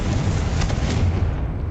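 A Confringo explosive spell cast in Hogwarts Legacy, a loud, dense rumbling blast that fills the whole moment with a heavy low roar and no clear pauses.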